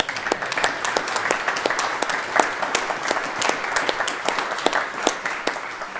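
An audience at a library exhibition launch claps in steady, moderately close applause for several seconds, a dense patter of hands with no voices over it.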